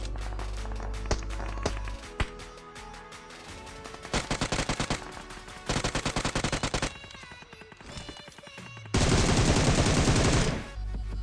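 Bursts of automatic gunfire in a battle royale shooter game, several loud sustained volleys of rapid shots separated by quieter gaps with background game sounds.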